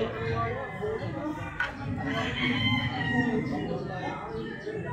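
A rooster crows amid a busy game farm in Tanauan, Batangas, with other fowl calling and people talking nearby.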